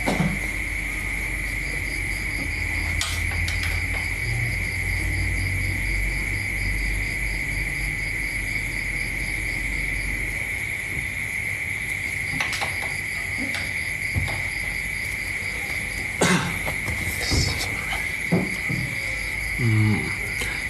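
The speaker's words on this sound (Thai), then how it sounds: "แพรรี่ช่วยหลีเสียงจิ้งหลีดหน่อย" Steady, high-pitched cricket chirping fills the night air, continuous and fairly loud, with occasional soft thumps and rustles nearby.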